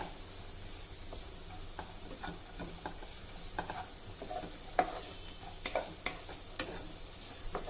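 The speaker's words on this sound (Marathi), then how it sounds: "हे थोडं परतून झालं की आता यामध्ये टोमॅटो शिमला मिरची आणि स्वीटकॉर्न घालणार आहे" Tomato, capsicum and sweet corn are sautéed and stirred in a pan for a vegetable soup, with a continuous close sizzle broken by scattered scrapes and clicks of the spoon against the pan.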